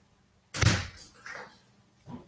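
A door closes after a visitor with one solid slam and thunk, followed by a softer rattling settle and a faint second knock near the end, close by in a quiet room.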